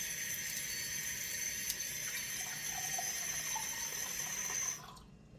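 Cold tap water runs steadily into a measuring cup for sourdough bread, a continuous close hiss and splash that cuts off sharply near the end.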